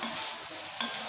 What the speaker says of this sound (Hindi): इसे हिलाने के बाद 5 मिनट इसको और रोस्ट करेंगे